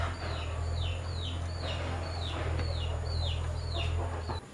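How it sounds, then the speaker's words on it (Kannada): Desi native village chickens at a rural home, clucking repeatedly in a steady series of calls over a constant low hum, with no talking. "ಅದೆಲ್ಲ ನಾಟಿ ಕೋಳಿಗಳು ಅಂದ್ರೆ ಊರಿನ ಕೋಳಿಗಳು"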